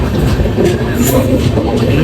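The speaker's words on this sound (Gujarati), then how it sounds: "બીજી ટ્રેન પણ આવી ગઈ છે હોલસેલ પેસેન્જર ટ્રેન છે" A passenger train at a station gives a close, loud, steady rumble with faint rhythmic rail clatter.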